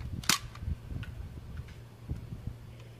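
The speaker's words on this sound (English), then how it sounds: "Alright, so I shot the bullet from here." A Nerf Accustrike Quadrant blaster fires an Elite dart with one sharp snapping pop near the start, followed by faint clicks and handling taps.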